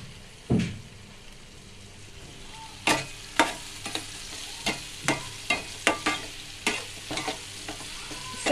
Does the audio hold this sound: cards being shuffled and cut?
no